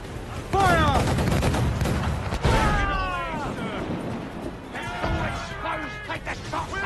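Cannons fire again and again in a naval battle, booming blasts and crashing impacts under shouted orders and voices, with overlapping gunfire throughout.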